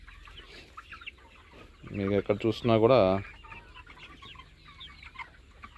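A flock of 70-day-old broiler chickens, mostly roosters, clucks faintly and continuously in the background of a poultry shed while someone speaks briefly in the middle.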